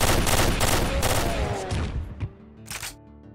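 Rapid bursts of gunfire in Doom 2 on the Plasmorgasm map, a dense fast-repeating volley up close that thins out into a few scattered shots and tonal game effects.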